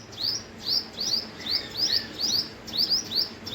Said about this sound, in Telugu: అన్ని డిఫరెంట్ డిఫరెంట్ బర్డ్స్ అన్నీ వస్తున్నాయిరా